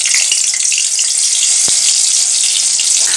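Pieces of pointed gourd (potol) fry in hot oil with a bright, continuous hiss and crackle, fairly loud and close, with a single soft knock partway through.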